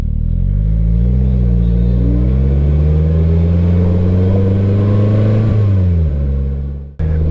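A Polaris Slingshot three-wheeler engine revs loudly and close, its pitch climbing and holding in a sustained roar before dropping off sharply near the end, with no talking.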